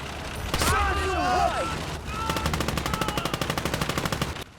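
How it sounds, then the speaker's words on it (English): Machine gun fire in the WWII strategy game Call to Arms: Gates of Hell, a long, evenly spaced burst of sharp rapid shots in the second half, after an earlier blast and rumble, with a voice speaking over it. "The men take cover as the machine gun continues to open up."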